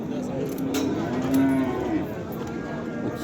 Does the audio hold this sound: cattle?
yes